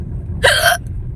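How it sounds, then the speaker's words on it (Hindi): One loud, abrupt hiccup from a person bursts out over a low rumbling background outdoors, followed by quiet. "यहाँ आते ही मेरे को हिचकी आई है।"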